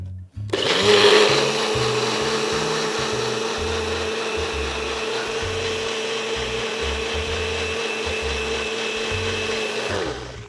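Blender grinding a chia pudding mixture of chia seeds, coconut milk and banana, a steady loud whirring motor that runs continuously for about ten seconds with a slight rattle underneath.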